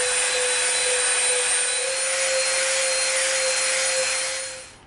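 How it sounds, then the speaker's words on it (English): A Dremel rotary tool rounds off the edges of EVA foam with a loud, constant high whine that holds steady and then winds down at the end, with no voices. "now what we're going to do is we're going to round off the edges with our Dremel."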